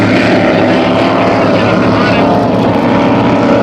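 Offshore superboat race engines on Lake Macquarie, Australia, roaring loud and steady as a dense, continuous drone with a slightly rough, uneven note, speech faintly mixed in beneath.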